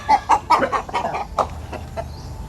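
Chickens cluck loudly and close by in a quick run of short, choppy calls.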